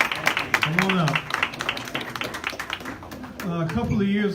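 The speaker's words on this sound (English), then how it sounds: "Give a big round of applause" Audience applauding for committee members at a Texas Southern University event, steady clapping of a crowd heard under someone talking nearby.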